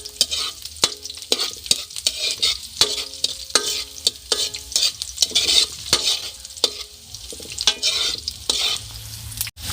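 Spice aromatics (panakot) sizzle and fry in a hot pan while being stirred, with repeated scraping and clinking strokes of a utensil over a continuous crackle, close and fairly loud, no talking.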